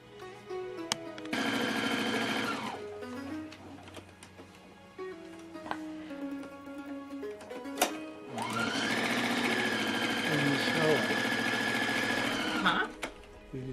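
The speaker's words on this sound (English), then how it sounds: "I'm sewing the points for the sleeves for the blouse I'm making for my Indian inspired blouse." A sewing machine stitching sleeve points for an Indian-inspired blouse runs in two long, loud whirring bursts separated by a quieter pause with small handling clicks, close and without talk.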